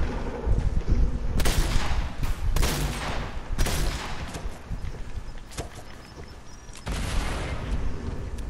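Explosions and gunfire in a war video game, several sharp blasts and bursts of fire near the listener, the loudest booms breaking through a steady rumble of battle.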